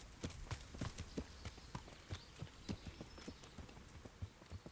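Horse hooves walking in the video game Kingdom Come: Deliverance make a steady, even clip-clop of distinct, regularly spaced footfalls. They sound quiet and fairly close, with no talk over them.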